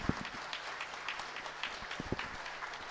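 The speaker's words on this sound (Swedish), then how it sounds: "En stor applåd till Nenne Lindberg." Applause from a modest crowd at a Swedish midsummer gathering, sparse and fairly quiet with a few sharper individual claps standing out near the start and again toward the end.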